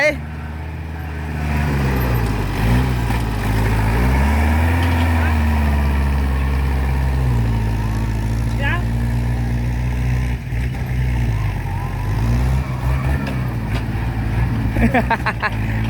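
A heavy engine rumbles steadily at close range, its pitch rising and falling as it works, with a few metallic clanks toward the end.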